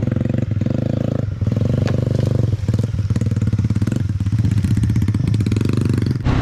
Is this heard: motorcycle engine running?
yes